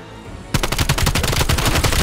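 Rapid automatic gunfire from the video game Black Ops Cold War bursts in after half a second of quiet, a loud sustained volley of repeated shots through to the end.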